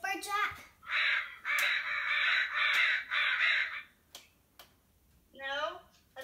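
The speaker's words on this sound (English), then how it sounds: "That's a crow." A crow caws in a harsh, repeated series of raspy calls, fairly loud and close, with a person's voice briefly before and after the cawing.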